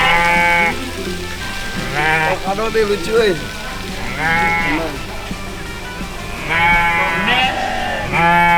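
Garut sheep delivered from a farm bleat repeatedly, several loud wavering calls nearby, with people chatting between and over them.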